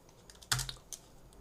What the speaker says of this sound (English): let's press tab and type convert and the volume